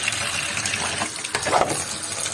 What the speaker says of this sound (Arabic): نطلق الميه ونحطها تاني